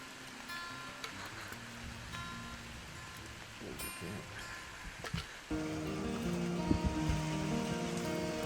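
Steady rain falls at a black bear hunting camp in Saskatchewan, a dense, even patter that grows louder and fuller about halfway through, with no clear talk.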